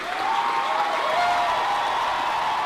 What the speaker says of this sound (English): It was just this non-stop cheering.